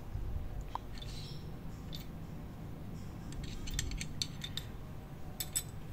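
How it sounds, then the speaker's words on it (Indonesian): A clutch pressure plate being fitted onto a Honda Supra X motorcycle, heard as faint, scattered metallic clicks and light clinks of parts and tools against a quiet background hum, with no talk. "Selanjutnya kita pasang plat penekan kopling."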